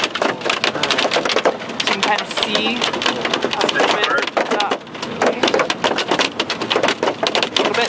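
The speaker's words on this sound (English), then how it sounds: "And that sound, that's hail." Hail pounding a storm-chasing car while core punching a supercell, a dense, loud, continuous clatter of impacts on the vehicle, with people talking over it throughout.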